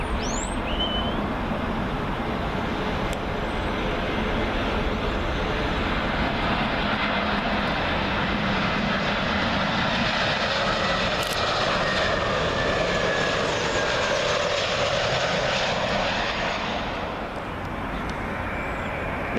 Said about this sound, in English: Up next, Austrian A320,